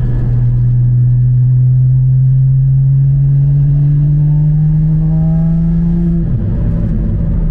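A Porsche Cayman GT4 981 engine revs steadily upward in a loud, deep drone, then the pitch drops abruptly as the throttle closes, with no one talking.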